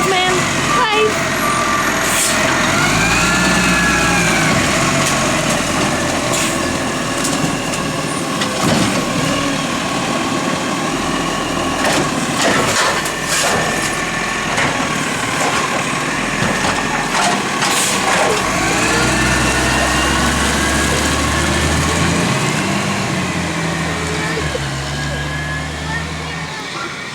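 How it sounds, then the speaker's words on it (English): A rubbish truck idles and rumbles nearby, its compactor crushing and groaning in bursts, with reversing beeps and people chatting underneath. "Wait for the rubbish truck man."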